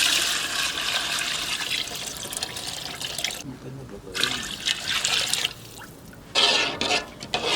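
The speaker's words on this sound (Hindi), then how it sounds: "2 लीटर हम पानी शामिल करेंगे।" Two litres of water pour into soaked parboiled rice for an Arabian-style chicken mandi, a steady loud splashing stream with brief pauses and renewed gushes, close up.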